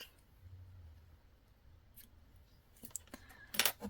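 Scissors cut crochet yarn from a craft kit with a couple of quick snips near the end, faint and close in a quiet room.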